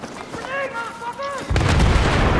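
A voice calls out briefly, then a loud, deep explosion in Battlefield 3 multiplayer booms and keeps rumbling to the end.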